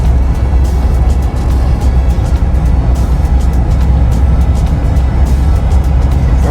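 Inside a Jeep Wrangler JL with a 2.5-inch Rubicon Express lift kit cruising on the road around 60 to 65 mph, a loud, steady low rumble of engine and tire noise with continuous road roar.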